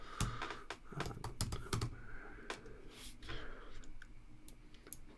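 Rapid, uneven keystrokes on a computer keyboard, close and fairly quiet, with sharp clicks in irregular bursts and no talking over them.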